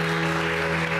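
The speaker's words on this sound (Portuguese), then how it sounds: "Aplauda o Senhor mais uma vez." A church congregation applauds in a steady wash of many clapping hands, over a constant low electrical hum in the room.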